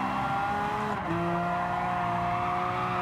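A race car engine in Gran Turismo 7's S-1 test roars at a steady, loud drone, its pitch dipping once as if shifting, then holding high and strained under hard acceleration.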